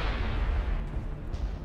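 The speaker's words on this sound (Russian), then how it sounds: "Как бедная женщина может работать, когда вокруг такая стрельба?" Booming gunfire rolls through a firefight in the video game Mass Effect, a loud, dense low rumble of overlapping shots with no clear gaps between them.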